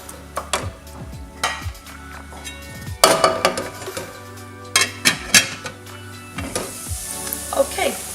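Chopped onions fry in a pan, with a steady sizzle and repeated clinks and scrapes of a utensil against the pan, all loud and close.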